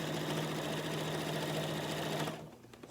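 A sewing machine stitches quilt binding in a fast, steady whirring run, close and even, then stops abruptly near the end.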